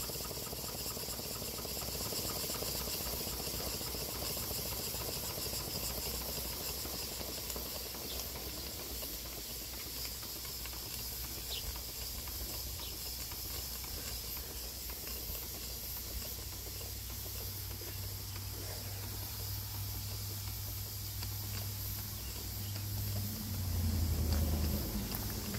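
A small model double diagonal steam engine runs steadily with a paddle-driven pump and eccentric valve gear, giving a continuous close hiss and soft mechanical chuffing throughout, with a low rumble rising near the end.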